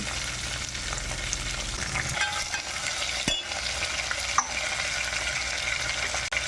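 Fenugreek leaves, green chilies, onion and curry leaves frying in hot oil give a steady, close sizzle with occasional stirring scrapes, and no one speaks.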